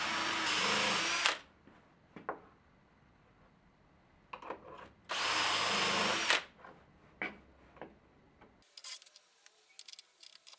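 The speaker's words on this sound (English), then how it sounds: "so the holes can be drilled into the right place" A power drill bores holes into wooden boards for French cleat modules in two loud bursts of a few seconds each, separated by quieter handling clicks and knocks, with light tapping at the end.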